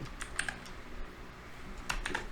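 Typing on a computer keyboard comes through as a few quick bursts of soft, close key clicks separated by a short pause, with no voices.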